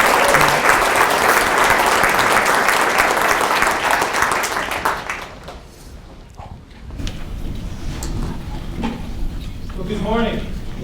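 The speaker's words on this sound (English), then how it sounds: "let's give him a round of applause to start us off" A large audience bursts into loud, dense clapping to welcome a speaker on stage at an opening session. The clapping holds for about five seconds, then fades into room murmur before a voice begins speaking near the end.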